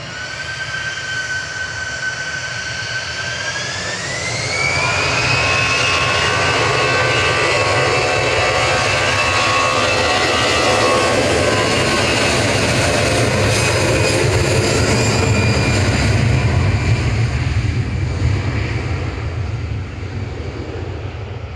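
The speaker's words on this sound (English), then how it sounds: "Got the Ryanair from Cork on approach on the glide slope now." A Ryanair airliner from Cork flies its landing approach on the glide slope into Manchester Airport. Jet engine roar swells from a distant rising whine to a loud, broad rumble as it passes overhead, then slowly fades.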